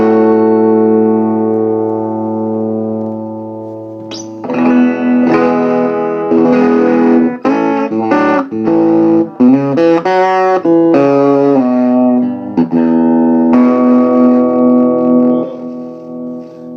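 Distorted electric guitar through an 80s Dave Larios TC20R solid-state combo amp with reverb. A long held chord rings out first, followed by choppy riffs and single notes that play in front and alone.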